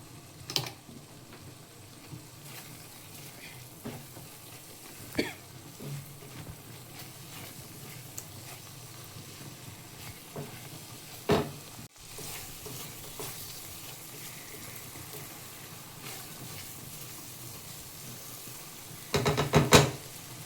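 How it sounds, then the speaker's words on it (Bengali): Spice paste (masala) frying in a pan for a meat curry, a low steady sizzle broken by repeated sharp scrapes and knocks of a spoon stirring, with a louder clatter near the end. "মশলাটা ভালোভাবে কষানো হয়ে গেছে"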